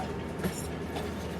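Sialkot Express train rolling through the Narowal station yard, a steady continuous rumble of wheels and carriages at close range with no clear individual clacks standing out.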